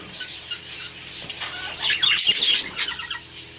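Pet birds with masks and spots, seen at a summer show, chirp and squawk in quick bursts at moderate distance, with occasional wing flutters and a busy indoor background.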